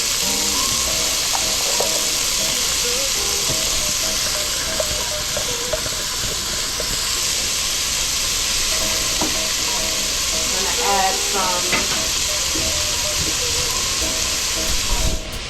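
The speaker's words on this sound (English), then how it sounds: "Gonna add the cubed pumpkin." Cubed pumpkin frying in a hot pan alongside king fish, giving a loud, steady sizzle and hiss with occasional stirring clinks and scrapes close by.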